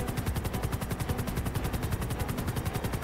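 Rapid automatic gunfire in GTA 5 roleplay, a fast, even burst of shots repeating continuously, loud and close with no talk.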